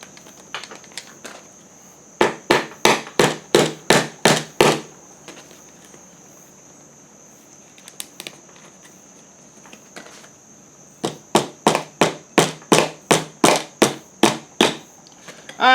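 Parts being hammered in on a 1979 Honda Express, sharp metallic taps in two fast, evenly spaced bursts of about a dozen strikes each, close and loud, with a steady high whine underneath.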